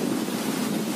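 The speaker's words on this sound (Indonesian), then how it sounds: "seketika angin bertiup dengan kencang menggoyang pepohonan" Strong wind gusting through trees during a storm, a steady, dense roar with broad rushing noise that stays loud and unbroken throughout, with no voices.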